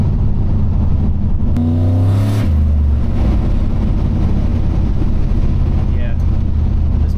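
Truck engine with Holley Terminator X fuel injection revs loudly and rumbles while driving, a brief rising rev near the start over constant heavy road and wind noise.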